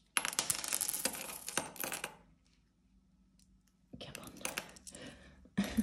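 Coins tumbling into a coin pouch during a UK cash-stuffing budget session: a dense burst of metallic jingling for about two seconds, a quiet pause, then more clinking and rustling of the pouch, close and fairly loud.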